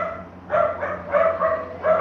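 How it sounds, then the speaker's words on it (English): Neighbors' dogs bark in a large echoing hallway, a series of four or five muffled, reverberant barks heard at moderate distance. "Because their dogs sit in this massive echo chamber hallway."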